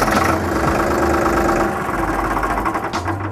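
A Farmtrac Champion 39 tractor's engine runs in neutral close by, a loud, steady, throbbing diesel idle with a rough knocking pulse that barely changes throughout.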